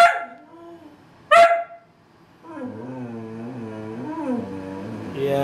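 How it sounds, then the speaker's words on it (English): A whippet gives a sharp bark, then a brief yelp, followed by a drawn-out wavering howl-like whine, close by. "With Chance barking."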